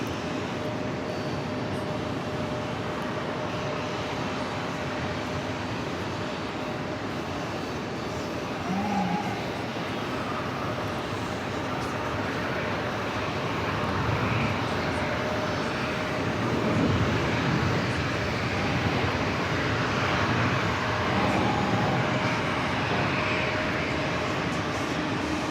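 A Norse Atlantic Airbus airliner bound for Athens rolls for takeoff at New York JFK, a distant continuous jet roar that swells gradually louder in the second half.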